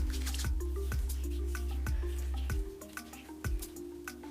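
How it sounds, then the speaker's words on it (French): Small amounts of water dabbed onto curly hair strands, producing a series of wet squishing pats in a regular rhythm over a steady low background hum, close and fairly loud. "Je vais rafraîchir mes 2 petites mèches juste avec un peu d'eau."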